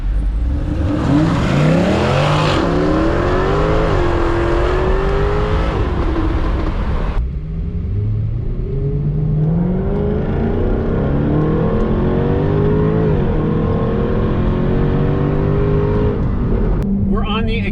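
A Jaguar F-Type R engine roars loud and close as the car accelerates hard along a road, pitch climbing and stepping down through gear changes, with a brief lull before pulling again, while people talk over it.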